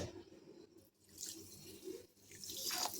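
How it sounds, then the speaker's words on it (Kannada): Water is poured onto sugar in a pan to start a syrup for Mysore pak, a soft close splashing trickle that comes in two short bursts with a brief pause between them. "ಪಾಕ ತಗೊಳಕ್ಕೆ ನಾನಿಲ್ಲಿ ಸಕ್ಕರೆ ತೈವಷ್ಟು ನೀರು ಹಾಕ್ಕೊಳತ್ತೀನಿ ನೋಡಿರಿ"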